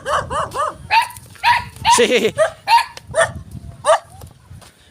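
Several dogs bark in the Philippines in a rapid, irregular series of close, loud barks and yips, with a person's voice briefly mixed in.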